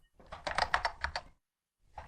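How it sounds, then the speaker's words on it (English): Quick keystrokes patter on a computer keyboard in a short, quiet burst of about a second, then stop, and a soft click or two follows. "So say I start typing something."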